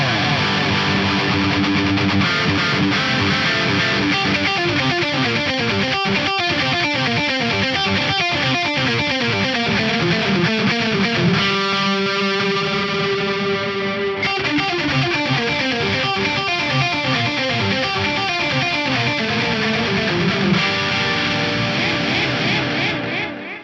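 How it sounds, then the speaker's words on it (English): Distorted electric guitar riffing continuously through an AM4 amp modeler with a vintage digital delay, repeating echoes trailing each note, loud and sustained throughout. "I'm using the vintage digital delay in there"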